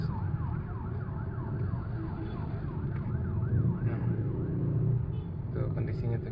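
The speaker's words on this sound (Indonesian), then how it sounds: "Bukan kebakaran nih, ambulans." An ambulance siren wails in steady rising and falling sweeps as it passes a Palisade Signature 2.2D, heard from inside the cabin over constant road and engine rumble.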